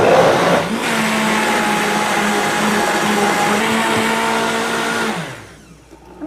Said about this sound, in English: Throw it in here and blend it.